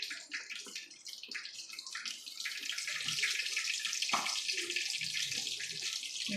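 Vinegar poured over medium-sized boneless milkfish (bangus) for paksiw, a steady close splashing, trickling pour that runs continuously and swells slightly louder partway through.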